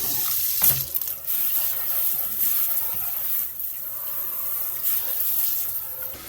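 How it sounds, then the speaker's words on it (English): Tap water runs into a kitchen sink fitted with a newly installed MOEN EX75C garbage disposal, a continuous close splashing flow with a few brief knocks and bumps. "got water flowing into the sink."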